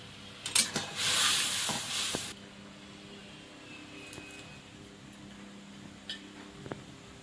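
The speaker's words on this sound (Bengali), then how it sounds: "এরকম ফুটান্ত গরম জলের মধ্যে দিচ্ছি" Taro flowers dropped into boiling spiced water make a loud burst of steamy hiss lasting about two seconds. A quieter simmering crackle with a few faint clicks follows.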